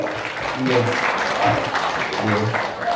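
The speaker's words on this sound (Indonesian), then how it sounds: "Tepuk tangan bagi Panggung Harjo." An audience at a Panggung Harjo community cultural gathering in a village hall applauds in a steady wash of clapping, with voices and some low murmuring mixed in throughout.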